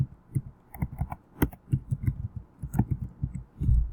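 Student names are typed on a computer keyboard, a close run of quick, uneven key clicks with short pauses between bursts, heard alone without speech.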